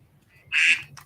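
A phone message alert quacks like a duck while an iPhone 6 battery is being replaced during a live stream. It is one short, sharp nasal quack, close and loud, over a faint hum.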